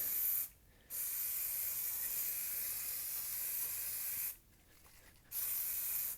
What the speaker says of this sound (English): We're just going to spray it on this pan.